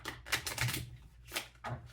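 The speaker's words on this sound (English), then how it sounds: "I want to shuffle these up good." Playing cards shuffled by hand at a table, a few quick riffling bursts of crisp papery clatter, close and fairly quiet, with brief pauses between them.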